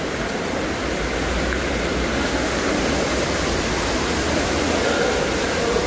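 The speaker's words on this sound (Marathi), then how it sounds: "पण त्या बघा, त्या बाजून पाणी येत आहे." Water pouring into a tank at a water filter house makes a continuous, broad rushing roar, loud and steady, like a small waterfall, heard close up with no talking.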